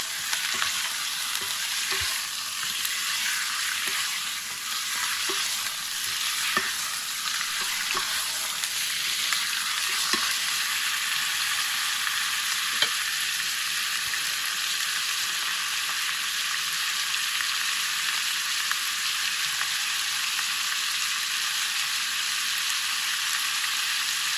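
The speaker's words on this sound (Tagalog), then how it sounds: "Haluin lang natin hanggang maging brown yung karne para malis yung lansa." Pork pieces for paksiw sizzle steadily in a hot pan as they brown, with a dense continuous frying hiss and occasional soft scrapes and clicks of stirring, no voices.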